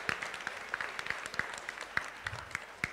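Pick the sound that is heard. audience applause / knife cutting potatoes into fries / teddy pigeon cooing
audience applause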